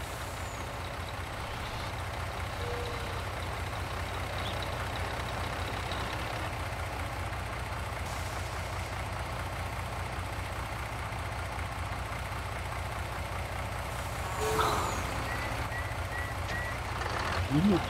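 A truck engine idles steadily in Farming Simulator 19, a low continuous rumble with brief hissing bursts like air brakes and a few faint higher tones; someone speaks now and then.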